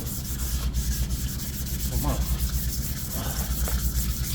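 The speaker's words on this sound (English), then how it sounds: "just keep sanding these until I get to it" Steady back-and-forth wet sanding of a metal V-Max scoop, close up, in a quick even rhythm, with a few words spoken briefly.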